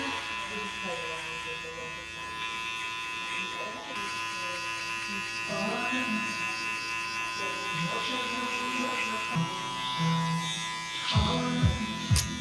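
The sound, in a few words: electric hair clippers cutting a short fade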